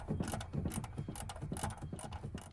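A ratchet wrench clicks rapidly and steadily at close range as exhaust pipe bolts are tightened on a Ford Capri 2.8 Injection, with a dense run of metallic ratcheting and no talk.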